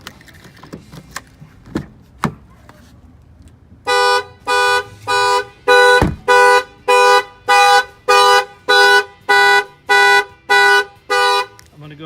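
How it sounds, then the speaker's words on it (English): A few sharp clicks, then a loud car alarm, set off by a door opening, blares in a steady series of about a dozen evenly spaced, honking electronic bursts, close by. "If somebody opens the door, we'll fire off the alarm."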